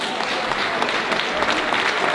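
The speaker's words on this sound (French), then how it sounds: "je vais applaudir Isabelle Pichot." Applause from a crowd at a finish-line ceremony for the women's scratch category winner of an urban trail race in Chaumont; dense, steady clapping throughout, fairly loud and continuous.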